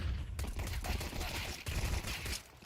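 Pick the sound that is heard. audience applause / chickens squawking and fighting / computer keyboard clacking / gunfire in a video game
gunfire in a video game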